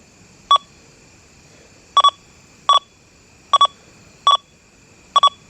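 Short electronic beeps from a Deus 2 metal detector with HF2 coil sound in irregular pairs and singles, clear tonal pulses over quiet background hiss, with no talking.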